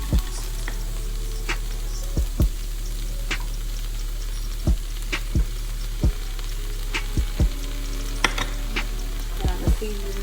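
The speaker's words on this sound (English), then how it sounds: "Just let that saute up." Garlic sautés in a pan for an easy home-cooked dinner, giving a steady, close sizzle broken by frequent sharp taps and scrapes of a utensil against the pan.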